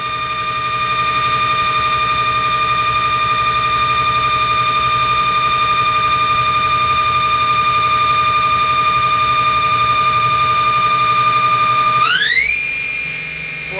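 Ganesh Cyclone 32CS CNC turning center spindle running at 2,000 RPM, a steady, loud machine whine with sustained tonal hum that climbs sharply in pitch near the end as the speed is raised.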